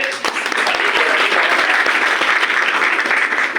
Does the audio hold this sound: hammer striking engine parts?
no